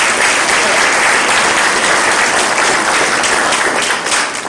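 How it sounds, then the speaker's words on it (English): A packed house at a Kwanzaa celebration breaks into dense, sustained applause, loud and continuous, easing off slightly in the final moment. "So give yourselves a round of applause."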